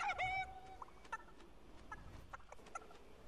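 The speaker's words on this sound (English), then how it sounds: "I hear a chicken." A chicken in Fortnite clucks close by, a loud squawk at the start followed by a string of short, scattered clucks and pecking sounds over quiet game ambience.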